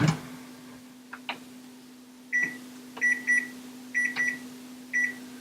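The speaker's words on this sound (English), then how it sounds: "I'm going to set the timer." A kitchen timer is set for baking cookies, giving a series of short, close electronic beeps in quick bursts over a steady low appliance hum, with no talking.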